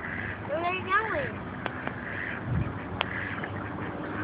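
A duck near a spot where duck food is given out lets out a couple of quick nasal quacks early on, close by, with a voice in the background.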